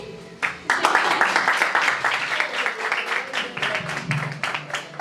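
Guests at a sixteenth birthday party by a swimming pool break into applause that starts suddenly and continues as brisk, uneven clapping, with voices talking underneath.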